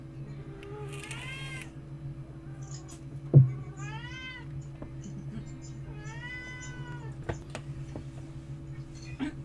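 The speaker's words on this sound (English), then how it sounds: "Everyone's talking about the cat now." A house cat meows several times, drawn-out rising and falling cries standing clearly over a steady low electrical hum, with a single sharp knock partway through.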